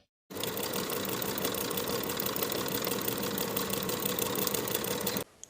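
Sewing machine running steadily for about five seconds, stitching a half-inch seam down the slanted edge of a woven romper's pocket lining, with a continuous close motor whir and no talk.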